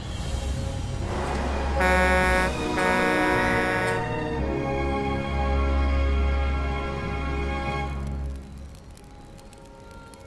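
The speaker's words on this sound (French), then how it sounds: "Tu veux essayer le klaxon" A truck's horn honks loudly and repeatedly over a steady engine rumble, sounding in long sustained blasts with brief breaks before fading out near the end.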